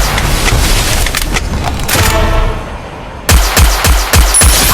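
Rapid automatic gunfire from the mobile battle-royale game Free Fire, loud and close, with dense bursts of shots followed by a pause and then several sharp, evenly spaced single cracks.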